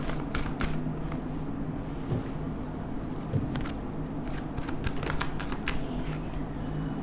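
Tarot cards are shuffled continuously up close, with dense crisp riffles and sliding flicks over a steady low room hum and no talking.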